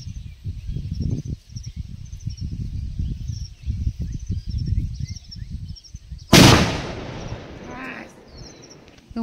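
A firecracker bursts outdoors with one sharp, loud crack that rings out and fades, following a stretch of soft voices and insect chirping.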